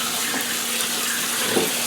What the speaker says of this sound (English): I'll run a lot of cold water through them anyway to get rid of any of the salt that's on the surface of them